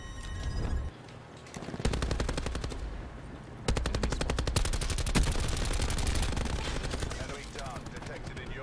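Rapid bursts of automatic gunfire in Black Ops 4, loud and sustained, with a short lull early on before dense volleys continue; a voice talks over parts of it.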